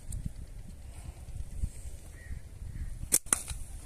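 A slingshot fired while hunting birds outdoors: a sharp snap followed by a quick second crack near the end, standing out against a low rumble of background noise.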